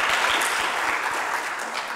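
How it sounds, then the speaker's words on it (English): An audience at a lightning talks session claps steadily for about two seconds, a dense, even wash of hand claps close by with no voices on top. "Let's clap a bit."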